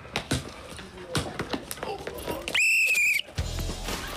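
A sharp, shrill referee whistle blast for a foul cuts in for under a second after a stretch of clattering and people talking, with a loud thud following.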